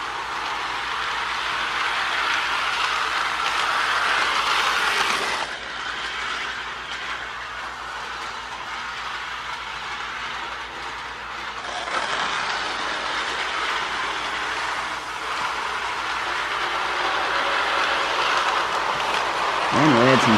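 Small Marx and Lionel toy electric trains whir and rattle steadily along a track, a continuous mechanical hum with faint clicking, fairly close, with a brief dip midway.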